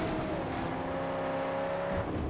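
A car in the video game Mad Max drives past with a steady, loud engine drone that holds an even pitch throughout, with no voices.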